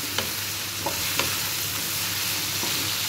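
Tomatoes sauté in a pan for ampalaya with eggs, a steady close sizzle with a few soft spatula clinks and stirs scattered through.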